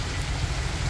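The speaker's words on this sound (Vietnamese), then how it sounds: "Trời mưa." Steady rain falls outdoors at a rural home in Vietnam's Mekong Delta, a continuous dense hiss with a low rumble beneath, even and fairly close, with no voices.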